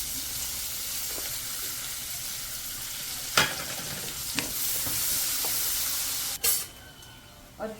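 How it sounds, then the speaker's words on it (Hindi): Chopped onion frying in a pan with bay leaf and a green chili, a steady hissing sizzle broken by a few sharp clanks and scrapes of stirring, close and continuous. "और अब इसमें मैंने ये प्याज चॉप किया है ये डाल दूंगी।"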